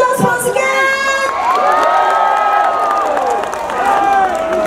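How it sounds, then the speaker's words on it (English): Crowd at a ShiRock 2022 rock band competition results ceremony applauding, cheering and shouting loudly and continuously for the first runners-up, with whoops rising over the roar. "A round of applause once again."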